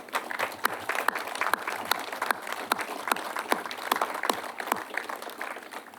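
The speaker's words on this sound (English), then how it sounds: "give them a round of applause and thank them" A small crowd at a ribbon cutting ceremony for a public safety facility gives sparse, scattered applause, with individual claps ringing out distinctly rather than a dense roar, continuing steadily for several seconds.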